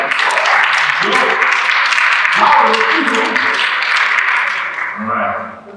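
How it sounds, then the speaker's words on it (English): A conference audience at a staffing industry event claps for a musician, a dense, loud burst of applause that holds steady for several seconds before tapering off at the end. "let's give a round of applause for our music"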